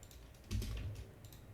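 A value typed on a computer keyboard during a SketchUp session: a short quiet burst of several close keystrokes followed by an Enter press, with no talk.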